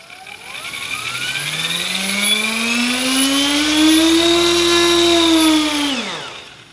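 An OMP Hobby M4 3D RC helicopter spins its rotors up. A loud, close electric whine rises steadily in pitch over several seconds, holds, then drops quickly as the rotors wind down.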